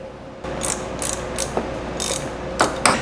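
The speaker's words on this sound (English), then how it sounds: "go ahead and grab those bolts and tighten it down" A hand ratchet tightening thermostat housing bolts on a 2006-2011 Honda Civic, close and loud, with a series of quick clicking bursts in irregular strokes and no talk.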